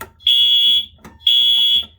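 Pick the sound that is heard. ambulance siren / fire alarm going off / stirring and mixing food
fire alarm going off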